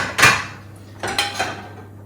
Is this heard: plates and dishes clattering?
yes